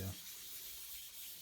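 Sandpaper rubbing over painted guitar body, a soft continuous scratchy hiss of a few quick strokes, close and faint.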